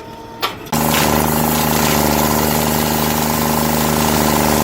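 The engine of a tree stump digger fires up after a brief clatter and settles into a loud, steady, vibrating drone that runs without a break for several seconds.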